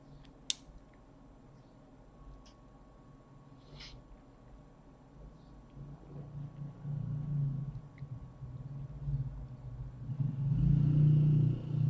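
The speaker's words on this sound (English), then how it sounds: "Excuse the motorbike noise." A motorbike passing outside rumbles faintly at first, then swells in the second half as it draws closer, low and indoors-muffled, with a few faint clicks early on.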